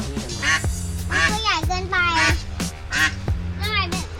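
Ducks quack loudly and repeatedly at close range, their calls overlapping in quick succession.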